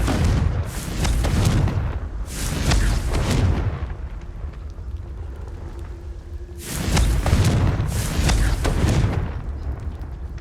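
Confringo fire spell blasts from the video game Hogwarts Legacy: two pairs of heavy booming explosions with rumbling tails, separated by a quieter stretch of low background hum.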